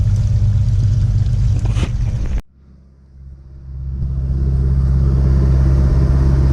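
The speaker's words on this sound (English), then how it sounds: "So the engine is running, a little bit high RPM." A boat engine runs loudly at high RPM during fall winterizing, cuts out abruptly partway through, then its deep rumble builds back up and holds steady.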